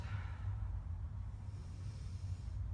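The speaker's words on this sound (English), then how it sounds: "Deep breathing." Slow, deep breathing during a yoga warm-up before back bends, a soft, close, airy inhale-exhale with a low rumbling undertone, quiet and continuous with no talking.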